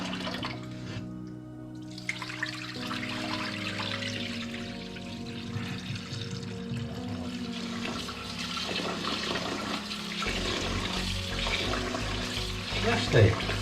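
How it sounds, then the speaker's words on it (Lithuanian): Rice for plov is rinsed in lukewarm water, with sloshing, running and dripping water in a sink continuing throughout, moderately close, as someone speaks over it. "Tokį drungną vandenį aš plaunu. Ir taip, 4-5 kartus, kartais į 6 kartus reikia."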